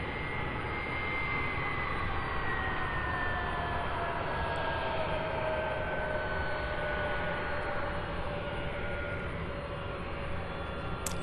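A jet airliner taxis at Louisville International Airport, its engines producing a steady, continuous roar and hum with a faint rising whine, heard from a distance without any break.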